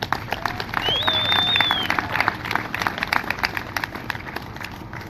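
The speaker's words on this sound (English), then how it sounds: "I want to have you give yourselves a round of applause." Outdoor crowd at a political rally supporting Trump's monuments decision claps in a steady, dense patter, moderately loud and fairly close, with a faint whistle briefly rising above the applause.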